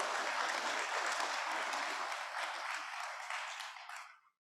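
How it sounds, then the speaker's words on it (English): Audience at a school signing-day ceremony giving a round of applause, a dense burst of many hands clapping that holds steady, then tapers off and stops. "About a round of applause for them"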